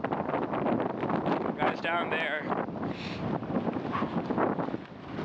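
Gusty mountain wind blasts across the microphone in a steady rush while a person speaks over it.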